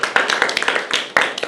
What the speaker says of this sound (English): Round of applause for number 2.